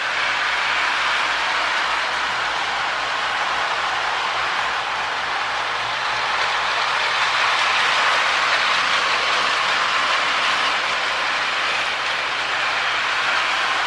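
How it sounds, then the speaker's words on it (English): A DC-powered Marx Lehigh Valley 70-ton switcher toy train runs steadily on its track, pulling a few light cars. Its motor hum and the clickety-clack of the wheels form a continuous, fairly loud whir that lasts throughout. "See, we got a nice little train behind it."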